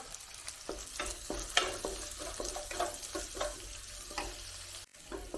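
Tomatoes frying in a pan with a little turmeric, a steady close sizzle broken by repeated scraping stirs of a spoon, with no talking.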